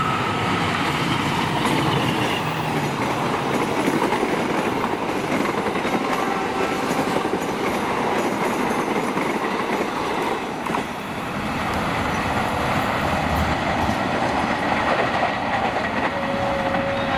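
Sembrani and Argo Merbabu passenger trains passing on a curve near Kosambi station in Indonesia, a loud, continuous roar of wheels and rumbling carriages with steady clickety-clack, close by, with no voices.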